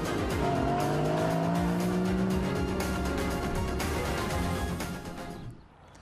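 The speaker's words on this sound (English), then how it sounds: "Driving a Porsche Boxster Spyder is a fashion statement in itself, says Sasha" A Porsche Boxster Spyder drives past at speed, its engine note rising and sweeping in loud, sustained tones with a hint of tire noise, fading slightly near the end.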